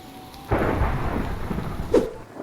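Heavy rain pours steadily in a video game world while a thunderclap rumbles through the downpour, loud and close, with no talking.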